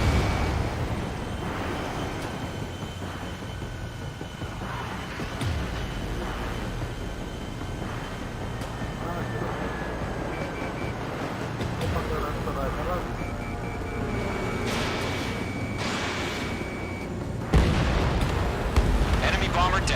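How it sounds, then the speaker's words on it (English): Missile launch and impact in a flight combat video game: a rushing whoosh and booming blasts over a constant roaring jet drone, with radio-style voices talking throughout and a sharp loud hit near the end. "Missile launched."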